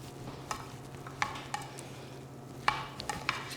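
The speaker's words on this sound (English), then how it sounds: "So we have all of our fresh ingredients. So we're gonna stir that up." Fresh chopped salsa ingredients stirred in a bowl for a container garden salsa, giving a handful of soft, scattered wet clicks and scrapes over a quiet room hum.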